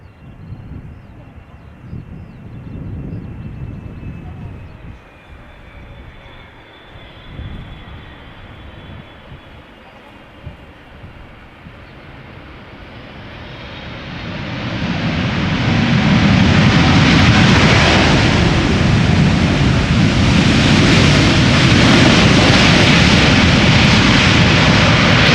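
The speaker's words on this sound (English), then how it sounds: "This is China Southern Cargo 777 freighter, 10 hours and 49 minutes on the way from Chongqing to Amsterdam." Jet engines of a 14-year-old China Southern Cargo Boeing 777 freighter at Amsterdam Schiphol, a thin engine whine at first under wind and faint talk, then swelling into a loud, broad roar that holds to the end.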